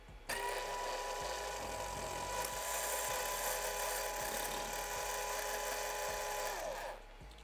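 A 24-volt motor drives the lead screw of a disassembled 3D-printed linear actuator, giving a steady, loud, high-pitched mechanical whine with grinding overtones that runs continuously for about seven seconds, then stops abruptly.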